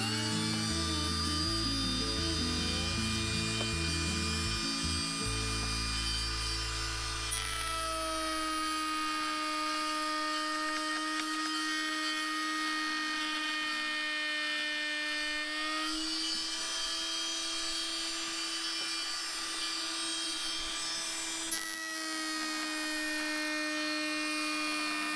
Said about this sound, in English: turn on the router